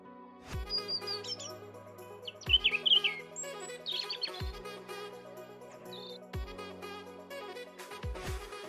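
A robin gives short, high chirps and tweets in scattered bursts, fairly faint, over a repeating background of low, falling tones, with no voices.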